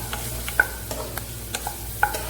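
Ginger being stirred in a frying pan for chicken wings adobo: quick scraping strokes of a utensil over a soft, constant sizzle, with a few sharp clicks against the pan.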